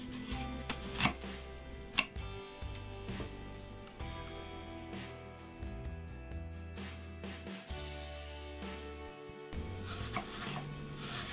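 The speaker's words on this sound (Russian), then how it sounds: "Яблоко очищаем от кожуры, семян и будем нарезать дольками" A knife slices peeled, cored apples on a board, crisp cutting strokes in an uneven rhythm, close up with quiet background music.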